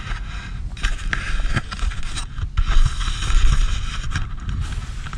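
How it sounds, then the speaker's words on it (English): Big ice chunks flowing fast down the Missouri River in winter, grinding and crunching against each other and rock in a continuous, loud, rough wash of noise close by, with no one talking. "And the crunching sounds it makes."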